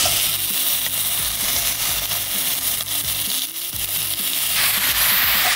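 Chopped garlic frying in oil in a small pan on a home stove gives a steady, dense, close-up sizzle with no talking over it.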